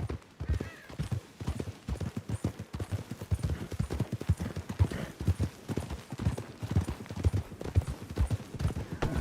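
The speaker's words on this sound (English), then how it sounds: "Control your horse, Arthur." Rapid, steady clip-clop of horse hooves on hard ground in the video game Red Dead Redemption 2, close and fairly loud, with an occasional faint snort.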